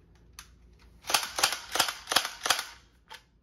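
Electric BB gun pistol with blowback firing a quick run of five snappy mechanical clacks in even rhythm, close and crisp after a couple of faint clicks.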